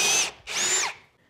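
Two short, close bursts of a power drill whirring into cedar posts while drilling pocket holes, separated by a brief pause, then quiet.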